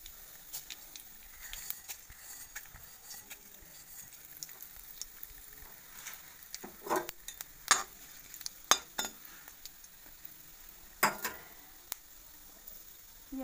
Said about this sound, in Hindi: अब हम कढ़ाई में 2 चम्मच सरसों का तेल ऐड कर देंगे। तड़के में डाल देंगे जीरा,